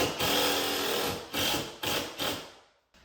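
A construction-grade screw with a washer being driven into a wall stud while hanging an Ikea kitchen cabinet, a close mechanical whirring grind in several short pulses, ending in a sudden stop.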